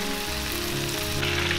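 Chicken pieces stir-frying dry in a wok for Hakka rice-wine chicken as ginger goes in, an even, continuous hiss and sizzle close by, with a faint steady hum underneath.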